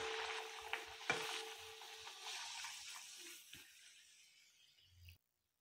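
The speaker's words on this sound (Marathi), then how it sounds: "तर अशाच प्रकारे आपण पुऱ्या तळून घेणार आहोत." Puris deep-frying in hot oil give a soft, steady sizzle with a few sharper clicks and stirring knocks near the start. The sizzle thins and fades over several seconds and ends in a brief bump before silence.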